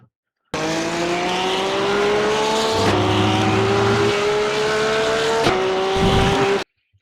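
Porsche GT3 race car in iRacing at Daytona, its engine holding a loud, steady high-pitched drone that climbs through gears with brief shift breaks, alone without talk.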